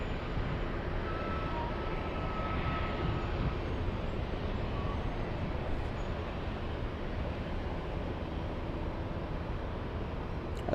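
An airliner taking off at Los Angeles International Airport roars faintly in the distance as a steady, broad jet rumble that holds evenly throughout with no talk.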